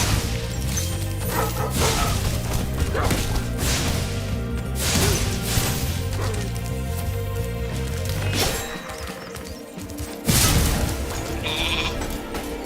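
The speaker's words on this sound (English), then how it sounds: "And yes, it's just a sheep." A sheep bleats loudly in Spyro Reignited over busy game music and effects, with whooshing and crashing bursts in between.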